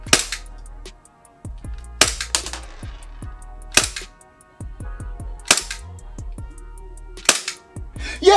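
A VORSK EU17 Glock 17 airsoft pistol in vented chrome fires repeatedly, each sharp crack followed by a quick metallic slide rattle. The shots come in loud, evenly spaced bursts about two seconds apart.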